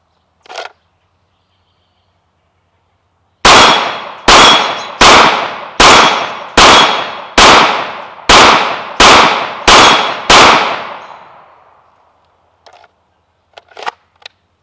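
Glock 19 Gen 5 MOS pistol fired outdoors, about ten loud sharp gunshots in a steady, evenly spaced string, each with a ringing decay, followed by faint handling clicks.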